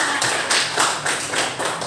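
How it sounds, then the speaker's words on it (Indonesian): A group of children in a classroom clap their hands together, a dense, continuous patter of many claps. "Tepuk tangan dulu semuanya"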